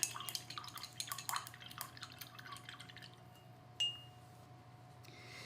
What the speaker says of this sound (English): So I'm going to wash my littlest brush.